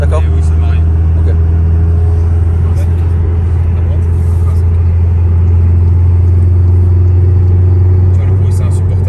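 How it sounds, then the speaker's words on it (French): A car engine idles at low revs with a loud, steady deep rumble and drone throughout, heard close from inside the vehicle with a little faint background noise. "C'est vrai que le bruit à bas régime comme ça là"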